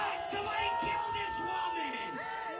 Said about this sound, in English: Are they booing because it's just so offensive, or is it something else?